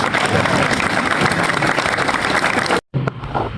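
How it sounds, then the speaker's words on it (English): An audience at a concert event in Bad Nauheim applauds with a dense wash of clapping that runs steadily, breaks off briefly near the end, then resumes more thinly with some crowd noise. "eigentlich müsst ihr euch mal selbst applaudieren"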